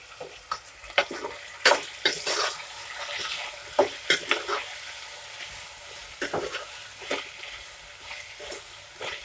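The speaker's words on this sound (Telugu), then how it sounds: "రెండు టమాటాలు తీసుకున్నాను నేను కట్ చేసి పెట్టుకున్న టమాటో ఒకసారి బాగా కలుపుకున్నాము" Chopped tomatoes stirred into a rajma curry with sour raw mango in a sizzling pan: a steady frying hiss under repeated scraping and clinking of a spoon against the pan, close and fairly loud.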